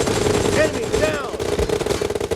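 Automatic gunfire from a shooter game played on a Realme phone, rapid bursts of shots crackling over game music and effects, with a voice talking under the action.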